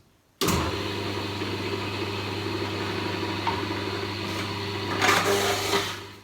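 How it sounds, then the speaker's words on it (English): A juicer starts up abruptly and runs steadily while juicing pineapple, orange and carrot, giving a loud, constant motor whine with a brief surge of grinding near the end. "Now I will juice and come back in a moment and taste it."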